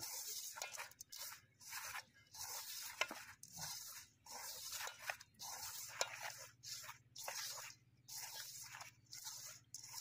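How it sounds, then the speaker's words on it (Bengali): Dry flour and sugar for carrot pitha are mixed by hand in a bowl, producing a close, regular rustling and swishing that comes in repeated bursts with short pauses between strokes. "এবার শুকনো উপকরণগুলো ভালোভাবে হাত দিয়ে মিশিয়ে নেব"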